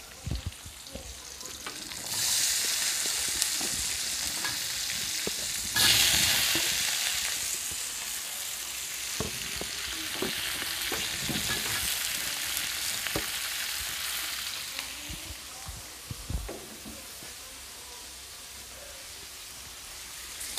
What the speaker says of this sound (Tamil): இதெல்லாம் நல்லா வதக்கிக்கலாம் ஃப்ரெண்ட்ஸ்.